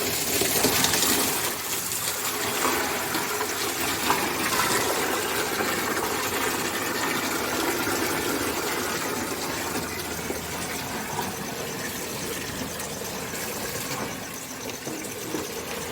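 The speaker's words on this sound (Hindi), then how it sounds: "अभी पानी भर रहे हैं" Water filling a container in a village home, a steady rushing hiss that runs unbroken for the whole stretch at an even level.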